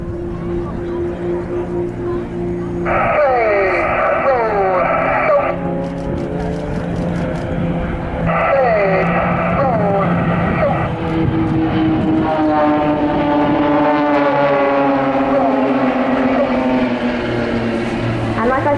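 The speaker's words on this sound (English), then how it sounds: "They are flying in the Extra 300s." Extra 300 aerobatic aircraft fly a formation display at an air show, engines droning steadily throughout with rising and falling pitch as the planes pass, under a commentator's continuous voice.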